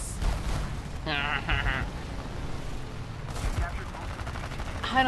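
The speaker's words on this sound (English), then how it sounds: "Ah, cannons." Aircraft cannons in the War Thunder air arcade combat game fire in rapid bursts over constant engine drone, with several distinct volleys spread across the clip.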